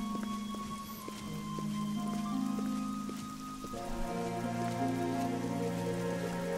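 Steady rain falling in the video game Oblivion on a dark night, a continuous close hiss of drops hitting surfaces, with low sustained ambient tones underneath and no talking.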